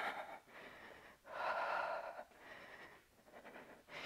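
Deep rhythmic breaths from someone doing an intermediate Pilates mat workout at home, several strong inhales and exhales heard up close with brief pauses between them.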